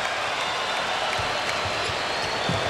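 Basketball arena crowd at an NBA game between the Washington Wizards and Golden State Warriors in Oakland, a dense, steady roar of cheering with a few low thumps beneath it.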